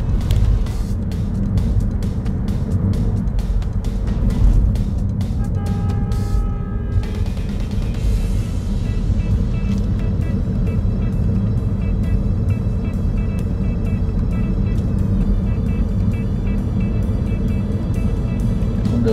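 Steady, loud road traffic rumbles through the Saigon River tunnel between District 1 and District 2 in Ho Chi Minh City, continuous engine drone with cars and heavy vehicles passing, no talk.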